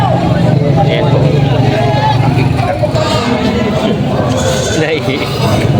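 Goats bleat at a busy livestock market in Padre Garcia, Batangas, their cries rising over a dense crowd babble and passing vehicle noise, loud and continuous.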